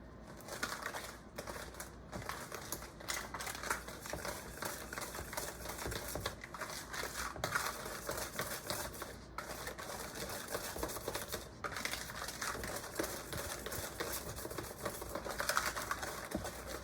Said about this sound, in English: We're gonna whisk that all together.